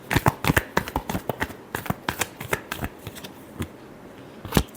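Tarot cards are shuffled up close in a series of sharp, uneven riffling snaps and slaps, with irregular bursts and short pauses and no voice over them.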